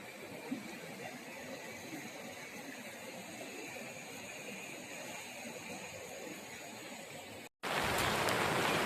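Rain falls outdoors in the Konkan countryside near a tree-lined river, a steady even hiss that runs on, then cuts off briefly before louder, brighter noise returns.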